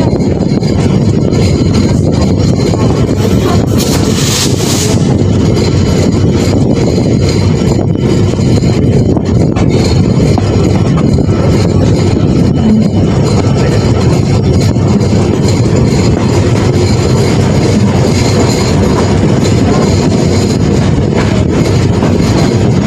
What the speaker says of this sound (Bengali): আমাদের ট্রেন প্রবেশ করলো ডোমার রেলওয়ে স্টেশনের 1 নম্বর লাইনের 1 নম্বর প্ল্যাটফর্ম।